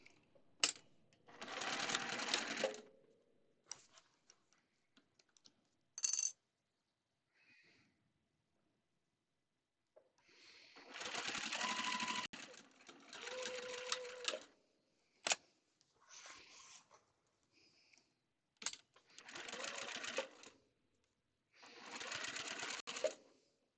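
A sewing machine stitches the corners of a quilt facing in several runs of steady whirring, separated by quiet pauses and small clicks as the fabric is pivoted.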